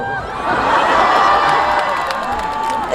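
A large outdoor crowd cheers and shouts at the Goheung Yuja Festival concert. The loud, steady roar rises early, holds throughout with whoops, and eases slightly near the end.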